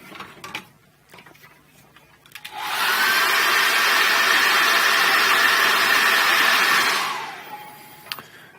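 A hair dryer blows over wet acrylic paint, switching on with a rising whoosh into a loud, steady whirring roar for several seconds before winding down, with faint brush and table sounds around it.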